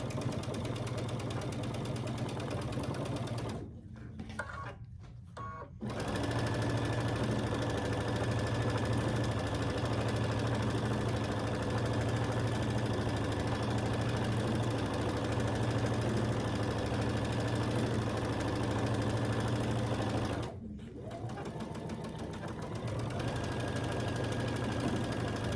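A sewing machine stitches a quilt top with a steady motorized whir that runs almost continuously, broken by two short pauses where the needle stops.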